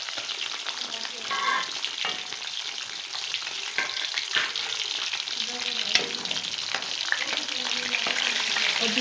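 Masala fish frying in a pan as it gets flipped, a dense, continuous crackling sizzle with scattered pops and spatula scrapes, close by and steady throughout, with no talking.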